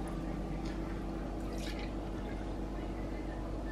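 Milk poured for a golden milk drink, a soft steady liquid trickle with faint drips under a continuous low hum from start to finish.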